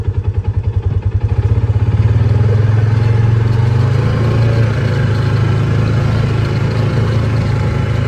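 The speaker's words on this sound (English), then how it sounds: "We're gonna back it into the dark shed after I put it in gear." A Polaris RZR 570 side-by-side engine putters at idle, then revs up into a loud, steady, close drone as the machine reverses into a shed.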